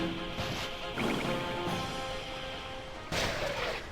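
Barrel cannon shots from the Dark Chronicle video game, fired from a ride pod, with heavy booming blasts over a dense, noisy game soundscape and a sharp loud burst near the end.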